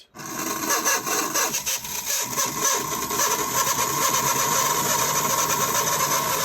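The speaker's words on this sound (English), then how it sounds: "that motor is working great" An American Flyer toy train motor run on a Type 2 transformer, a steady close buzzing whir with a gritty rasp that holds continuously and loud after a quick start.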